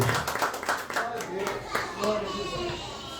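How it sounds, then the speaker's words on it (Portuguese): A church congregation claps hands together in a rapid, lively rhythm, moderately loud and spread through the room, with voices mixed in. "Vamos aplaudir o nome do Senhor nessa noite?"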